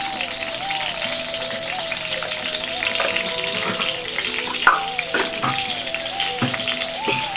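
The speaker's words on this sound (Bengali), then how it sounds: "ডিম আর আলুটাকে একটু ভেজে নেব" Egg and potato frying in hot oil with chili and turmeric powder, a steady loud sizzle with occasional stirring clatter throughout.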